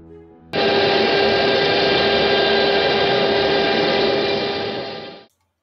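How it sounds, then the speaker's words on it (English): A CNC router cuts foam panels for a boat hull. Its loud, steady whine starts abruptly, runs evenly for several seconds, then tails off and stops. "the CNC router winds on. I'm cutting the many foam panels for the starboard hull"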